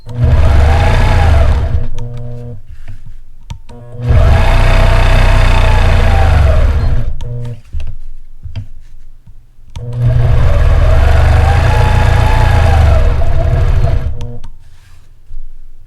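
A sewing machine stitches in the ditch during ruler work on a triangle quilt design, running in three long loud bursts with short pauses between them, very close.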